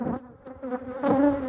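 Honeybees from a large colony settled after swarming hum around an open hive, a close, wavering buzz of individual bees passing by the ear, moderately faint and without speech.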